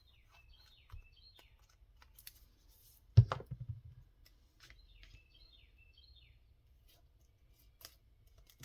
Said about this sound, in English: Birds are really having a good time out there.